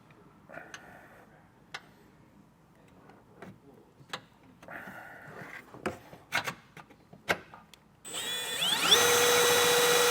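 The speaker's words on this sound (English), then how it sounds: "we'll just go ahead and get that drilled out now" A power drill bores a hole during a base plate install on a 2025 Buick Encore GX, first in short spaced bursts with clicks and knocks, then a loud sustained whine near the end.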